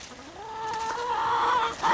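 Chickens on a snowy New England farm cluck and call with rising drawn-out tones, close and fairly loud, with no talking.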